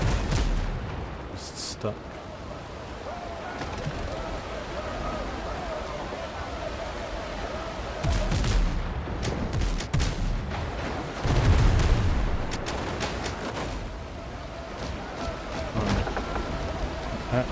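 Enemy ship cannons fire in the pirate survival game Windrose. Heavy, rumbling broadband booms sound over a constant sea-like wash, with the loudest blasts clustered midway. Someone talks intermittently throughout.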